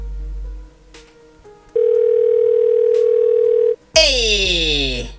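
A telephone handset gives a short tone, then a long steady dial tone, followed by a burst of rising electronic tones and noise.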